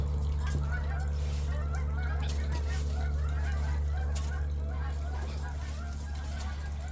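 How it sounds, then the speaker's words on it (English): Canada geese wintering in Colorado honk intermittently at a distance, faint calls scattered over a steady low background rumble. "It's Canada goose, actually."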